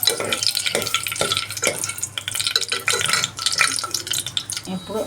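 Cashew nuts fry and get stirred in a pan, with steady sizzling crackle and repeated scraping stir strokes close by, continuous for several seconds.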